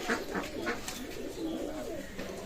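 Oman Bradani pigeons coo in soft, rolling repeated calls, close and fairly clear over a light background hum from the loft.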